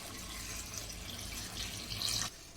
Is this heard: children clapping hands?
no